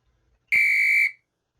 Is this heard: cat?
no